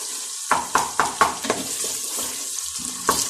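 Onion with ginger-garlic paste fries in ghee with a steady sizzle, broken by a series of sharp stirring scrapes from a spoon in the pan, close and alone.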